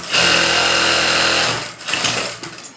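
Sewing machine stitching a blouse, a loud close whirring run that holds steady then stops, followed by a few softer fabric handling sounds.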